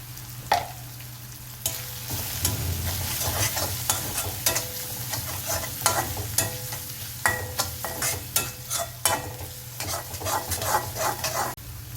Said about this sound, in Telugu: పసుపు అల్లం వెల్లుల్లి పేస్ట్ బాగా ఫ్రై అయిన తర్వాత